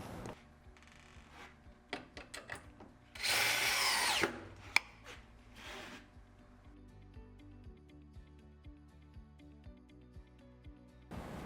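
A power drill drives screws to fix a servo motor control box inside a sewing machine table leg, heard as short whirring bursts and one longer loud run, mixed with knocks and tool clatter close by.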